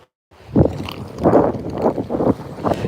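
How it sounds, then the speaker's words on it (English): Wind gusting at a fishing spot, buffeting the microphone in loud, uneven bursts of low rumble separated by brief lulls. "it is windy here"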